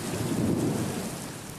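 A spring thunderstorm with a low, continuous rumble of thunder beneath steady rain, loud and close, with no voices.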